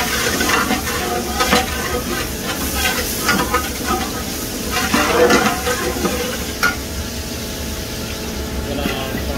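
Cumin and garlic go into hot oil for pav bhaji and set off a loud, continuous close sizzle and hiss, with stirring scrapes and clinks above it.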